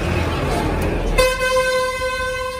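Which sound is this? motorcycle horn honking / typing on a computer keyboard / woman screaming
motorcycle horn honking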